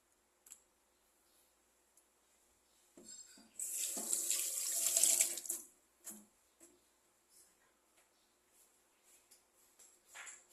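Water poured into a cooking pot holding salted milkfish, a soft stream running for about two seconds amid faint kitchen clatter and small knocks, quiet and close, with no voices.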